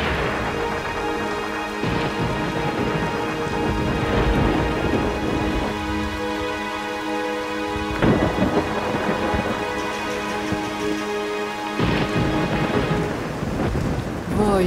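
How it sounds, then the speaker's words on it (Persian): Heavy rain pours down steadily while several rolls and cracks of thunder break through at intervals, loud and close, with a steady musical tone running underneath. "وای وای چه بارونیه"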